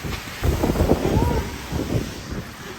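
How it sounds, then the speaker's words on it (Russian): Strong storm wind gusting during a hurricane in Riyadh, Saudi Arabia, roaring in broad, buffeting waves against the microphone with voices talking over it. "там сейчас сильный ветер? Прям сильнейший."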